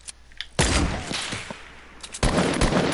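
Bursts of rapid gunfire from a PS4 video game crackle in two clusters, a volley early on and another near the end, fairly loud with short gaps between.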